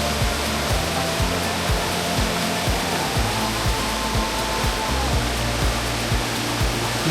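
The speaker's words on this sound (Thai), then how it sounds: "น้ำตก9ชั้น เรามาถึงแล้วครับ" A nine-tier waterfall in Suan Phueng, Thailand, roars loudly and continuously, a dense rushing wash of water with no break.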